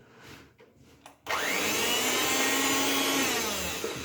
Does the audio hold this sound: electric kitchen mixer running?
yes